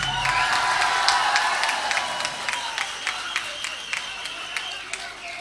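Scattered audience applause at a comedy talk show rises in a broad wash, with sharp individual claps standing out over a steady crowd murmur throughout.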